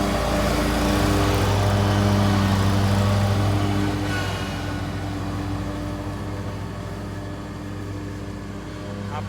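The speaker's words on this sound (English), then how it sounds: "We're gonna mow it again." A petrol lawn mower mows freshly laid sod on a lawn, its steady engine drone running loud and continuous throughout, easing slightly in the second half as it moves.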